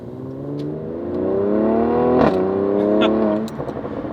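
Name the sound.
Mercedes-AMG C43 Cabrio V6 exhaust revving and popping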